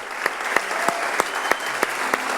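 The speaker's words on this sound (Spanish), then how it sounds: "Podemos dar un aplauso al Señor" A church congregation applauds during a sermon, with sharp, evenly spaced claps of a few hands ringing out over a low hum.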